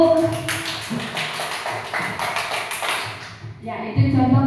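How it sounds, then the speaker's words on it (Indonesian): Audience at a school teachers' gathering claps for a teacher, a dense burst of hand claps lasting a few seconds before a voice takes over. "Tepuk tangan buat Pak Dewo ya."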